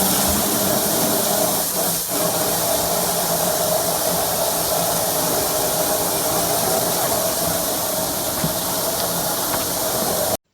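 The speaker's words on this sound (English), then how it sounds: "He gets underneath the sink and unleashes a 90 psi torrent with steaming hot water." Steaming hot water blasting at 90 psi from a burst line under a sink, a loud, continuous hissing rush that holds steady for about ten seconds with no talking.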